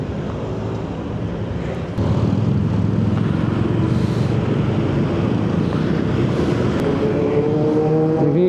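A Z9 motorcycle in a video game gives a loud, continuous engine drone with rising and falling pitch as it accelerates, mixed with rushing wind noise and no talk.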